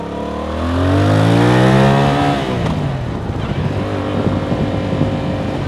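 A Yamaha MT-07 motorcycle engine revs up, its pitch climbing loudly and close, then settles into a rough, steady rumble as the bike carries on.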